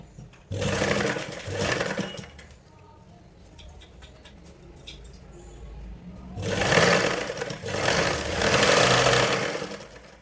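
A sewing machine stitches blouse pieces in two long, steady, whirring runs separated by a quieter pause with light clicks of fabric handling.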